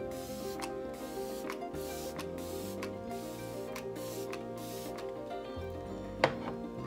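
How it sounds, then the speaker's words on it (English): An Olay facial mist bottle sprays onto a face in a rapid series of short, close hissing spritzes at a steady rhythm, with no talking. "So I just spray my face."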